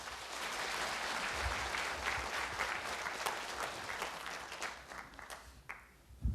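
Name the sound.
audience applause for a speaker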